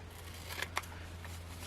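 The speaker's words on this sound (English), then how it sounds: "I'll use these scissors." Scissors snipping a fabric tag during sewing, two quick crisp snips close together then a softer third cut, quiet against a low steady background hum.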